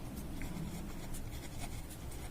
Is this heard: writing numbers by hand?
yes